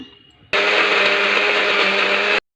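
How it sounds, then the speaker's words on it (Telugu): A mixer grinder grinding fresh coconut for coconut laddu starts abruptly and runs as a loud, steady whirring roar for about two seconds, then cuts off sharply, with no talking. "నేను అందుకే మిక్సీలో వేసుకుంటున్నాను"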